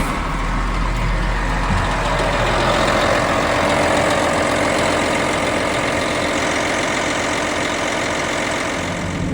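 A farm tractor engine starts and settles into a loud, steady diesel idle, a heavy continuous rumble that holds evenly for several seconds with no talking.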